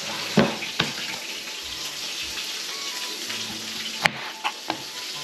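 Steaks sizzling in a pan, a steady close frying hiss with a few sharp pops and clinks scattered through, no talk.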